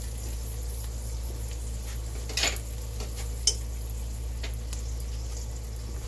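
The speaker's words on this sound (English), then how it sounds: "I am actually frying up some bacon as well" Bacon frying in a pan in a home kitchen, a low steady sizzle with a few faint clinks of utensils, no talking.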